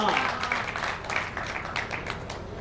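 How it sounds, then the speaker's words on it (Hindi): An audience at a Hindi comic poetry recital applauds a poem with moderate clapping, rising and falling in light waves, mixed with voices. "हालांकि कविता सुनाने लायक तालियां तो मिली ही"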